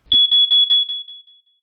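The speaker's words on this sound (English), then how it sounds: "If the decrease in current is large enough, the detector will realize this and sound the alarm." An ionization smoke detector alarm shrills in four rapid loud piercing beeps, close by, the last tone trailing off and fading out alone.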